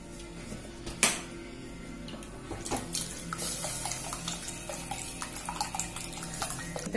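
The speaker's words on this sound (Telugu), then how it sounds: "కొంచెం వాటర్ పోసుకుందాం చిట్టగా ఉంది" Water is poured into a pan of omelette pulusu, a tamarind curry, as a soft, close trickle and splash. It starts with a sharp clink, and the liquid keeps running quietly with small bubbling pops.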